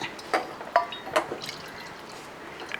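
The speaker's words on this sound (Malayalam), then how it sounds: "വറുത്ത് വെച്ചിരിക്കുന്ന എണ്ണ കുറച്ചങ്ങ് മാറ്റുകയാണ്" Hot frying oil poured off a pan while making Kerala-style ginger curry (inji curry), heard as a few sharp, separate liquid drips and splashes over a quiet background, with no speech.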